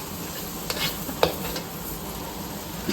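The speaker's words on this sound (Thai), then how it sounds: "ผัดทุกอย่างให้เข้ากันค่ะ" Chili paste loosened with water sizzles softly in a pan for crab and egg stir-fry, a low steady hiss with a few light scrapes of stirring.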